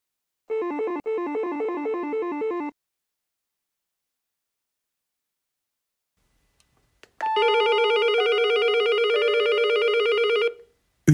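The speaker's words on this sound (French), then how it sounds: "Le fait d'appuyer 2 fois sur le bouton de sonnerie palière de cet appartement active aussi la station intérieure." An intercom indoor station rings after a landing doorbell button is pressed twice: a pulsing electronic ring of about two seconds, a pause, then a longer steady multi-tone chime of about three seconds, loud and close with no voices.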